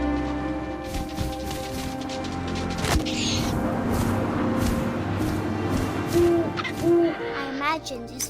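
An owl hooting in What Remains of Edith Finch, two short low hoots over wind, rustling grass and scattered game sounds, with soft narration partly under it.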